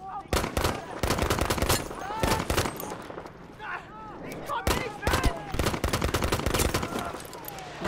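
Video game gunfire in repeated rapid bursts of sharp, loud shots separated by brief pauses, with a voice talking between and under the volleys.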